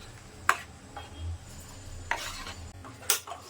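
Urad dal porridge stirred in a pot over a low flame, with three short, sharp spoon scrapes against the pot spaced a second or more apart over a faint background hum.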